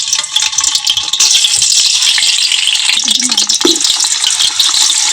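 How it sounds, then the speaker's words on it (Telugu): Eggs fry in oil in a pot in a home kitchen, giving a loud, continuous sizzle with occasional stirring scrapes and rattles throughout. "ఎగ్స్ అయితే వేయించుకుంటుంది ముందుగా"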